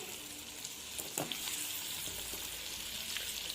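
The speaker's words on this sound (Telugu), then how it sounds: "ఇప్పుడు ఈ ఎగ్స్ని మంచిగా ఫ్రై చేసుకోండి." Eggs fry gently in oil over a low flame, a steady soft sizzle with a couple of light stirring scrapes, close and continuous without talk.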